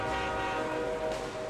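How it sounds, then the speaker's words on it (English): A train rolls past in a VR balloon-chair deathmatch game, a steady rumbling pass with a sustained horn-like tone held throughout, fairly loud and alone without talk. "That was a train."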